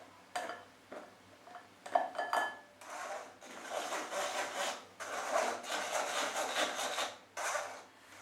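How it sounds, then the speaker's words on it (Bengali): Dry cake ingredients for an eggless chocolate cake pushed through a sieve, giving soft repeated rubbing and scratchy shaking sounds in bursts, close and fairly quiet, with no talking. "এবারে এই সব উপকরণগুলো আমি একটুখানি ছেঁকে নিচ্ছি"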